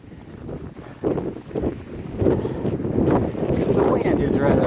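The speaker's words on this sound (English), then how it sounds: "Because the wind is rather stout up here." Strong wind buffets the microphone on a winter Appalachian Trail climb in the Smokies, gusting louder as it goes while a hiker talks throughout.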